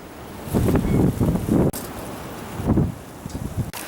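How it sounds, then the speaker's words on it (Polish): Strong wind gusts batter the microphone beside a fishing pond in loud, uneven bursts, with brief lulls between blasts and a faint rustle in the background. "Teraz się mega wiatr zrobił"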